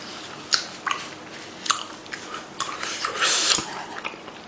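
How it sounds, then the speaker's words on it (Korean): Noisy, wet chewing and biting close to the microphone while eating chili shrimp, spicy pork rice bowl, jajangmyeon and fried dumplings, with irregular smacking bursts and a few crunches against a quiet background. "쩝쩝거리면서 안 먹을 수가 없어요"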